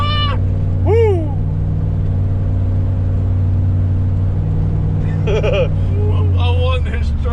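A cammed Chevy Sierra pickup engine idling with a steady low rumble and rising in a revving launch, while voices shout and talk over it in short bursts.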